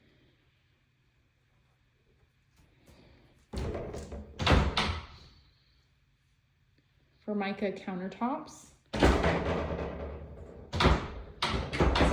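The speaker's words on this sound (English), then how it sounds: "Sorry, the pantry doors keep opening on me." Deep kitchen pantry doors bang and clatter open and shut in several loud, close bursts of knocking and rattling, interleaved with a person talking.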